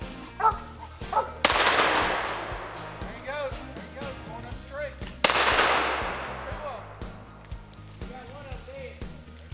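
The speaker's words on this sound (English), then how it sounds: "these dogs are barking, so I guess they're ready to roll." Squirrel hunting dogs bark in the woods of Fosters, Alabama, giving a string of sharp yelps near the mic. Two loud, sudden bangs cut through the barking, and voices can be heard faintly.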